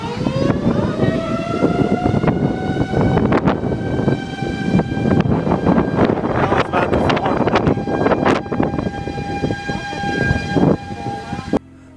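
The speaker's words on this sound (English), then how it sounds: "sirens begin to scream across Smithville" Tornado warning sirens wail, rising and sustaining loudly over a dense rumbling background across Smithville, steady for the whole stretch before cutting off at the end.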